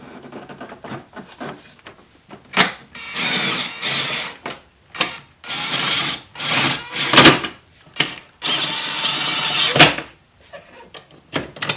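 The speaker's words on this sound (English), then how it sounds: "Notice I'm being real gentle when I use my impact ratchet to put things back on" An impact ratchet tightens parts back onto a BMW E46 330i/325i during repair, with repeated short bursts of whirring and rattling, alternating with brief quiet pauses and light handling clicks.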